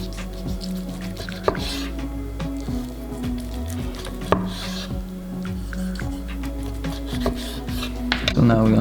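A knife slices roasted chicken breast on a board in a series of moist, squishy cuts with sharp taps as the blade meets the board, over a low steady background hum.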